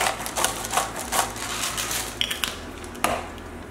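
Broccoli being tossed with salt and pepper in a bowl or pan, giving a run of quick dry clattering and rustling bursts with a few sharper clicks, fairly close and with no talk.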